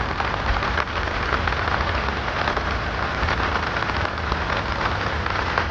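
Steady heavy rain falling over a village, a dense, continuous hiss of drops on surfaces at even loudness throughout, with no voices.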